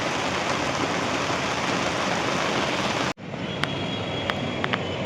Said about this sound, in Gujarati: અને ખૂબ વરસાદ વરસી રહ્યો છે.